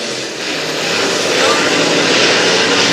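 Super Stock race cars roar around Brownstown Speedway, a loud, dense engine drone that swells slightly as the pack passes close by.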